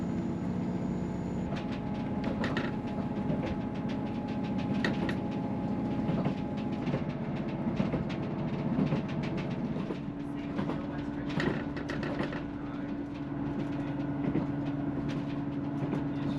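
A passenger train on the Far North Line near Kildonan, Scotland, rolls steadily along the rails with a continuous rumble and rhythmic clickety-clack, no voices, a constant hum throughout.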